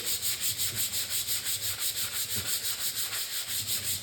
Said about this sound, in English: I'm gonna sand it here with some 220.